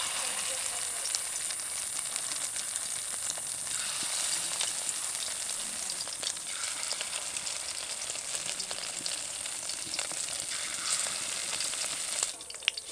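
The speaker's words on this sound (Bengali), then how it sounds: "প্রথমে মাছের ডিমের বড়াগুলো ভেজে নেব।" Fish roe fritters fry in hot oil, giving off a steady, dense sizzle and crackle that runs unbroken and close throughout.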